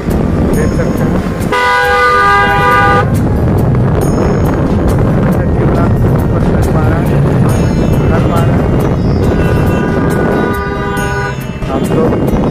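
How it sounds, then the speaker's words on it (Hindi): Road traffic beside a gathering of official government vehicles in Patna, Bihar, with a steady dense wash of passing cars and several sustained horn toots in bursts near the start and end, under continuous background noise. "इधर से साइड से गाड़ी का आवाज़ आ रहा है देख सकते हैं"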